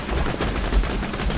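Dense, rapid gunfire in Borderlands 2, a continuous loud burst of overlapping shots with a heavy low rumble and no gaps, without any talk.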